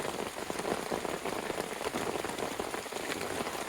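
Rain pours steadily at night onto a tent during a backpacking trip in San Mateo Canyon, producing a close, continuous patter of drops without pauses or talking.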